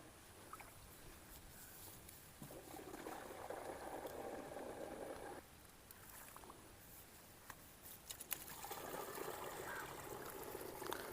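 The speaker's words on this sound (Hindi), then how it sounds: "ये पानी भर रहा है" Water pouring into a plastic agricultural sprayer tank in a farm field, a faint, continuous rushing trickle that shifts in level as the flow changes, with no voices.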